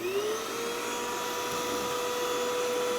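A vacuum cleaner runs steadily while cleaning the condenser coils of a Samsung refrigerator, its motor whine rising in pitch at the start and then holding a constant droning hum, close and alone.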